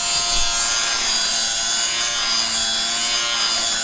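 An electric lint remover runs on its second setting against a pilled bed sheet, giving a steady, loud, buzzing whir with a scratchy shaving texture close up, with no talking.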